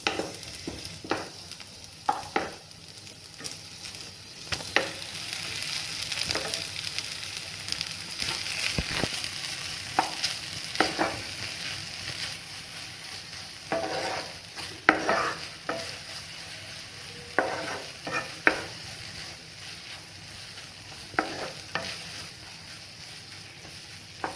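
Grated pumpkin frying in oil for halwa, a soft continuous sizzle with frequent sharp scraping strokes of a spatula stirring the pan, close and fairly quiet throughout.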